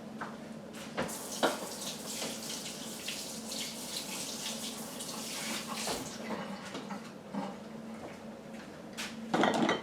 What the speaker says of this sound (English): I'm just going to ladle my hot liquid over there.